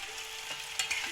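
Bay leaf, cardamom, cinnamon, cloves and a little cumin sizzle in hot oil for an aloo curry, a steady close crackling hiss with a couple of brief sharper pops near the end.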